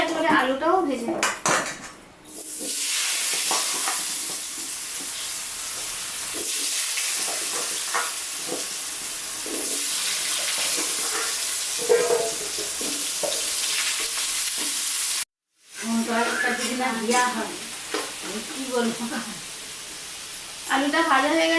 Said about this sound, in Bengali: এর মধ্যে এই তেলে একেবারে আলুটাও ভেজে নেব।